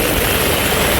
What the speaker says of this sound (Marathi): हे आमच्या रत्नागिरीत लँडिंग होतंय हेलिकॉप्टर